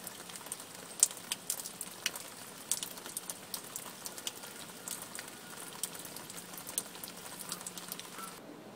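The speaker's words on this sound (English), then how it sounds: "Oh, it's so nice to get some nice gentle rain." Gentle summer rain falls outdoors on a homestead where ducks roam, a faint, soft patter with scattered sharper drips popping out of the quiet hiss.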